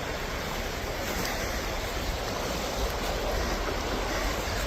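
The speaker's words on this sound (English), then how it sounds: "This is the Moynally River that's feeding into the Blackwater." The Moynally River rushes steadily where it feeds into the Blackwater near a boathouse, a dense, continuous wash of flowing water at moderate level with no voices.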